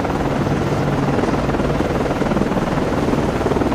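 An anti-submarine warfare helicopter lifts off from the frigate USS Nicholas, a Perry-class FFG-47, in the Cold Waters naval game. Its rotor and engine roar is loud, close and steady throughout, with nothing else over it.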